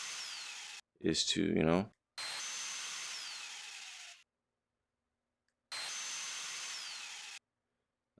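A pneumatic torque wrench in the WRENCH VR mechanic simulator buzzes in sustained high-pitched bursts of a few seconds each, separated by silence, with a short stretch of speech between the first bursts.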